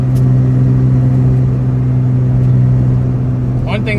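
A Mazda RX7 rotary engine running slightly rich while driving, giving a loud, steady low drone with stable harmonics throughout and a brief voice near the end.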